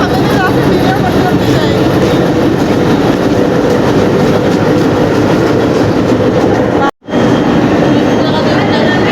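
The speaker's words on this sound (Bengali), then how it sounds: "দেখছো ট্রেনের সামনে চলে এসেছি দেখুন ইঞ্জিলটা এখানে" A loud, steady local train rumble with rhythmic clattering from the rails, heard close to the front of the engine, with a brief dropout near the end.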